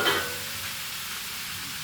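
Chicken gizzards toast in a hot pan with a soft, steady sizzle and a brief stirring scrape at the start, heard at close range without any voices.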